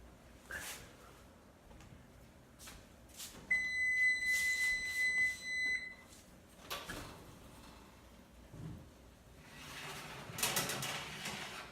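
A kitchen timer goes off while bacon-wrapped rumaki hors d'oeuvres cook: one steady electronic beep lasting about two seconds, set among light kitchen clatter and handling noises.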